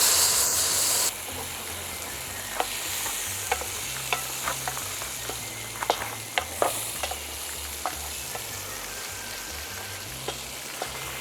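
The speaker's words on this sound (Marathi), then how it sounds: "मस्तपैकी मांदा जो आहे तो परतून घ्या." Crab tomalley fries in butter with crushed garlic, a steady close sizzle and hiss from the pan broken by scattered clicks and scrapes of stirring.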